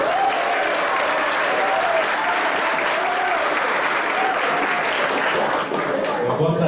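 Steady, dense applause from an audience at a municipal health council meeting in Ecoporanga, continuing unbroken and fairly loud for several seconds with crowd murmur underneath.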